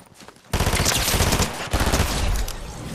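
Thunderburst SMG firing in Fortnite, a loud sustained rapid burst that kicks in abruptly and rattles on with a brief stutter midway, close and dominant with no talk.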